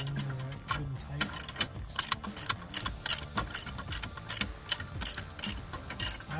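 A hand ratchet snugs up a front lower control arm bolt on a 2006–2008 Honda Pilot, giving steady rapid clicking in uneven bursts, close and fairly quiet, with no talk.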